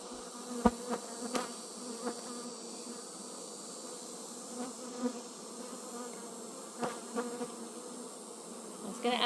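Honey bees hum around an open beehive in a steady, close buzzing drone, with a few louder individual bees passing near and occasional faint knocks.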